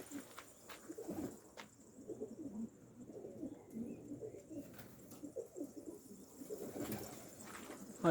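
Pigeon cooing near a coop, repeated soft throaty coos in irregular bursts over several seconds at moderate distance, with faint ambient noise.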